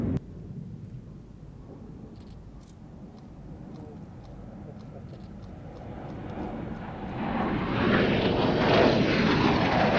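A Red Arrows jet engine roar builds from a distant rumble to a loud, broad rushing sound as the plane passes overhead at an air show.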